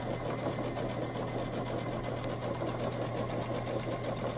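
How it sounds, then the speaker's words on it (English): A sewing machine runs continuously as it stitches back and forth over the handles of a fabric bag, giving a steady close mechanical whirr and rapid needle clatter with no talk. "You can literally just pop it back in and sew forward and backward"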